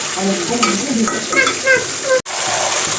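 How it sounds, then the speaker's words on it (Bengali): Mutton (goat meat) being stirred and sautéed in a pan, a close steady sizzle with repeated scraping strokes and a brief cut near the end. "তো এখন মাংসটা ভালোভাবে কষিয়ে নেবো সময় নিয়ে অনেক সময় নিয়ে কষাবো"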